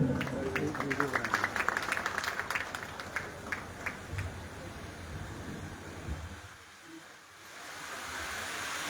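A crowd at a product training program applauds as the mic is handed over, dense clapping for about four seconds that thins and fades out, leaving a quieter room with some voices.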